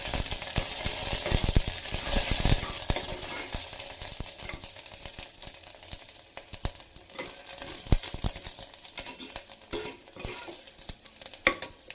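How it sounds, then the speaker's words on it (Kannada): Ground cinnamon and clove frying in a pan for tomato bath: a close, crackling sizzle with frequent sharp pops and stirring scrapes, rising and falling unevenly, with no talking. "ಸೊ ಇಷ್ಟು ಈಗ ಫ್ರೈ ಮಾಡ್ಕೊಳ್ಳೋಣ."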